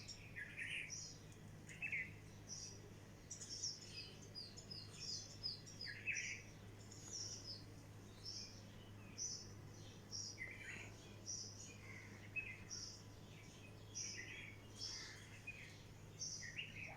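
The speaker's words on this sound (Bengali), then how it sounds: "পাখির কিচিমিচি ডাক শোনা যাচ্ছে," Small birds chirping on a quiet winter morning at dawn near a few trees, with faint, scattered high tweets repeating throughout over a low, steady background hum.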